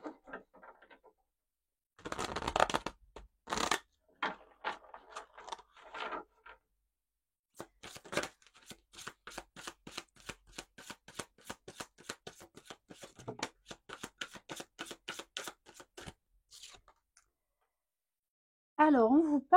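Oracle cards being shuffled by hand, a long run of soft, close riffling and flicking in irregular bursts with brief quiet gaps, ending with a voice speaking.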